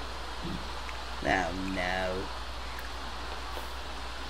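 Rain falling in The Sims 4, a steady soft hiss of rain throughout, fairly quiet, with a brief voice speaking over it partway through.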